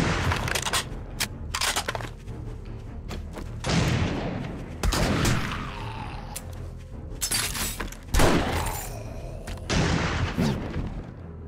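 Gunfire from a weapon in the video game 7 Days to Die, a rapid series of sharp bursts and booms spread across the clip with echoing tails, close and loud.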